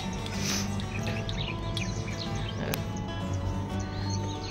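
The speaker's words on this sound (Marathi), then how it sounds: "फक्त पक्ष्यांचे आवाज आहे, काहीच नाही." Morning birdsong at a quiet village homestay in Dabhol, Konkan: scattered chirps and tweets from several birds over a steady outdoor background, with no traffic.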